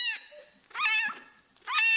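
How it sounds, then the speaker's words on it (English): Three high, wavering meows from a newborn kitten being bottle-fed, each rising then falling, separated by short quiet gaps, close and clear with no talking. "as he's meowing"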